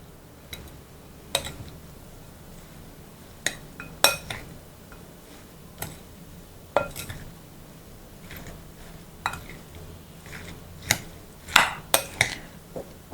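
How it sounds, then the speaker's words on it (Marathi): Spoon clinks and taps sharply against a bowl as sweet corn patty ingredients are stirred together, sounding as irregular, close knocks over a quiet background with no voices. "हे मी सगळं ढवळून घेते आधी छान मिक्स करून घ्यायचं"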